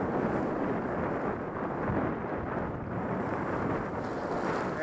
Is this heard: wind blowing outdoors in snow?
yes